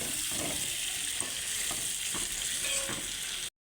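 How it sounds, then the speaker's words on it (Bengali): Chicken and raw potato pieces fry in a pan while being stirred, a steady hiss of sizzling oil with soft scraping strokes of the spoon, close and moderately quiet, alone without talk. "এটা ভালো করে কষাতে থাকবো।"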